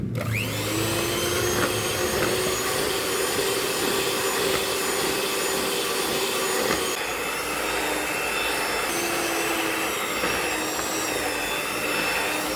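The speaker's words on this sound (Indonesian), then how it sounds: "Kita mixer lagi sekitar 1 menit lagi." An electric mixer beats an egg into choux pastry dough, a loud, steady high-pitched motor whine running without pause throughout, alone with no talk.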